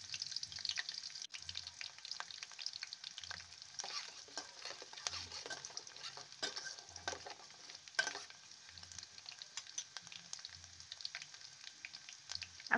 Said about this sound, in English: Now I'm going to add the chopped onions and I'm going to leave it to fry for a few seconds